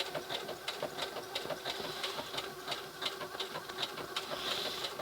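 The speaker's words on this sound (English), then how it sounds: "just hit the play pause, and it will do the 4 stitches that we've programmed in" A Singer 6800C heavy duty sewing machine stitches programmed decorative stitches, its needle clattering in a steady, fast rhythm with a constant motor whir, close by and alone.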